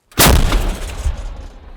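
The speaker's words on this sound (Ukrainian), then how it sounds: "Гармата, постріл." A single loud, close blast from an American-made artillery gun with a sharp onset, followed by a rumbling boom that decays over about a second and a half.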